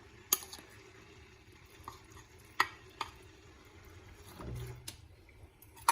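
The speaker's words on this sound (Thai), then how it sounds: "เอาไปผัดกับกะทิเลยค่ะ" Red curry paste is stir-fried in coconut milk for a fish curry. A faint, quiet sizzle sits under sharp spatula taps against the pan and a brief low scrape of stirring.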